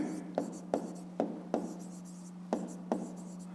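A pen writing an answer on paper during a fifth-grade maths exercise, soft scratchy strokes in short separate bursts over a steady low electrical hum.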